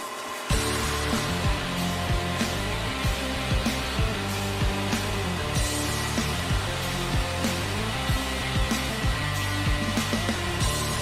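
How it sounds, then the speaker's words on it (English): Robotic cutting of fire extinguisher welds with Norton abrasive wheels and rouge compound, a steady loud whirring grind with constant motor drone and small rhythmic fluctuations throughout. "The cut process utilized the abrasive grains embedded in the Norton fab wheels to remove the color from the welds."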